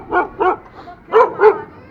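Dogs barking outdoors on a street: four loud, close barks in two quick pairs with a brief pause between, and no talk over them.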